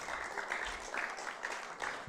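A church congregation claps in praise during a sermon, a faint, somewhat distant patter of many hands with a loose, rhythmic pulse running through the brief burst.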